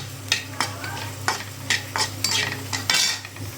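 Chillies fry in hot oil in a pan while being stirred constantly, close crackling sizzle with repeated scraping strokes of a spatula roughly every half second.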